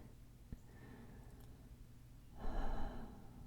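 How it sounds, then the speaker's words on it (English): A single deep inhale during a guided Lenten prayer meditation, rising softly after a quiet stretch of room tone and lasting about half a second, close and gentle. "Take a deep breath."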